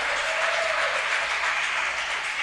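Strong, steady applause from a church congregation during a worship service, a dense continuous wash of clapping that stays even throughout with no speech over it.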